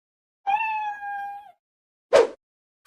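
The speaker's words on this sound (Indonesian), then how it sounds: "Kucingnya bunyi terus tuh." A cartoon cat gives a long, drawn-out meow, then after a short pause lets out one brief, sharp second meow, both clear and close in an otherwise quiet animated scene.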